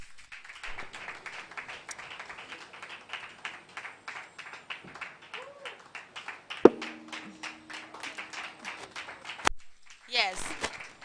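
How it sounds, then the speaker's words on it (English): An audience applauds as a panelist is welcomed on stage at a professional event, a run of moderate clapping in a hall under a speaker's amplified voice. "Please keep clapping for her"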